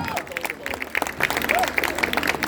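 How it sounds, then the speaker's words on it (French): Scattered applause rises from a crowd at an international lumberjack competition in Palaiseau, France, while a voice talks over it, the clapping fairly close and lively but partly masked. "Merci Gilles, applaudissements pour ce grand bonhomme."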